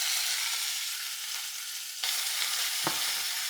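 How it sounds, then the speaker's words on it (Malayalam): Ginger, garlic and green chillies fry in oil with fenugreek, a steady close sizzle running throughout with a brief stirring clink near the end; no talk. "ഉലുവ ഒന്ന് മൂത്ത് വരുമ്പോൾ നമുക്ക് ഇഞ്ചി, വെളുത്തുള്ളി, പച്ചമുളകും കൂടിയിട്ട് ചേർത്ത് കൊടുക്കാം"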